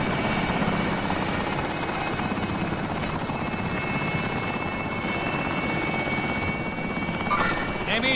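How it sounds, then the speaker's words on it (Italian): In Call of Duty Warzone, a helicopter gives off a constant, loud rotor drone that fills the whole stretch. The dense engine whir stays steady from start to finish, with only slight shifts near the end. "Elicottero in rientro."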